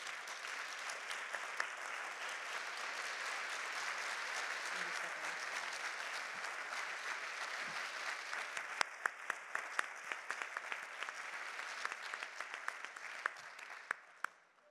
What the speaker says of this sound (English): we give them all a huge round of applause.